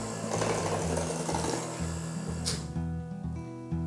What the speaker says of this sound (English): Let's give this a scrape and then give it a light beat again.